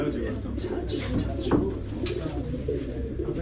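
Racing pigeons coo in a low, continuous rumble while being basketted before a 430 km race, the close throaty calls going on steadily with people talking over them.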